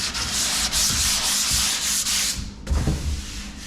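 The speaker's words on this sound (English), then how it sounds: "Give these a quick once over with the sander." An electric sander buffs pre-primed doors with a steady, close, hissing rasp that holds for about three seconds, then briefly cuts out and resumes with a lower rumble.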